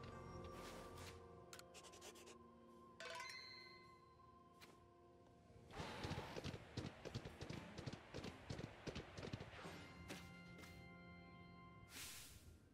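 Horse hooves clop in Pokemon Legends: Arceus as a character rides his horse, a dense run of quick, fairly faint hoofbeats mixed with game music and chimes.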